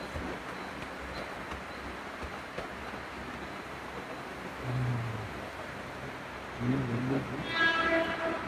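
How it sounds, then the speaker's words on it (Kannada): A Mumbai local train approaches a station amid a steady, fairly quiet rumble, with louder mechanical swells and a high whistle-like tone building toward the end. "ಟ್ರೈನ್ ಈಗ ಜಸ್ಟ್ ಬತ್ತು ನೋಡ್ರಿ."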